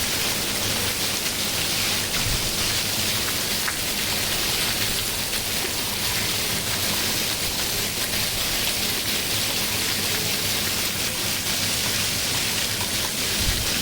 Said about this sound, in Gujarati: ત્રણ મિનિટમાં એટલો વરસાદ